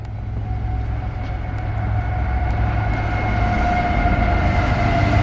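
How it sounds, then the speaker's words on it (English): A train passes close by with a steady, loud rumble and rising wash of rail noise that swells slightly and holds for several seconds, with no talking over it. "And here comes the train."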